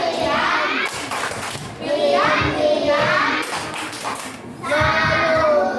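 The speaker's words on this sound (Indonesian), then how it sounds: "Kita kasih tepuk salut untuk William." A class of schoolchildren performs a rhythmic clapping chant together, loud group claps in repeated bursts mixed with children's voices chanting along.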